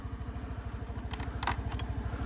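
A 2017 Suzuki Address 125 DT11A scooter idles nearby with a quiet, even, rapid putter, a faint clatter rising briefly midway.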